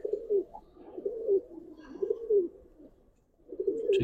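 A male Giribaz pigeon cooing close by, a soft low coo repeated about five times in an even rhythm against a quiet background.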